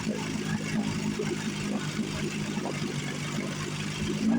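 A 1957 Johnson 5.5 hp outboard motor runs steadily at an even idle, a continuous close mechanical drone with no pauses and no talking over it.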